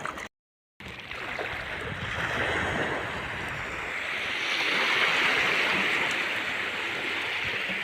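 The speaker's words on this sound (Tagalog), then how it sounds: "medyo lumakas na ang alon guys" Sea waves wash steadily at night during a rising high tide, heard from a small fishing spot close to the water. A continuous loud surf roar mixes with wind noise and swells slightly midway, with a brief dropout near the start.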